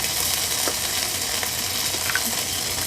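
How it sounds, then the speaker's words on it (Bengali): A paste of ginger, cumin and garam masala sizzles steadily in a pan, a constant close frying hiss broken by a few light scraping stirs. "এখন এগুলো ভালো করে নেড়ে চেড়ে একটু ভেজে নিচ্ছি"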